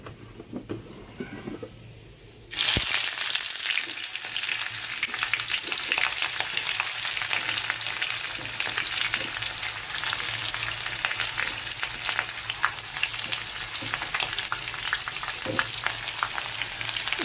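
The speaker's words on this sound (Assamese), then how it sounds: "এইখিনি এতিয়া অলপ ভাজি ল'ম ভালদৰে" After a quiet opening couple of seconds, chopped onion hits a pan of hot oil with cardamom pods, cloves and cinnamon and bursts into a loud, steady sizzle and crackle that continues unbroken, with no talking.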